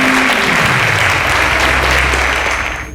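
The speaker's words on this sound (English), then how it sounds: "A round of applause to them, ladies and gentlemen." A large audience claps steadily at a quiz show grand finale in a dense, loud wave of applause that holds for several seconds before starting to fade at the end.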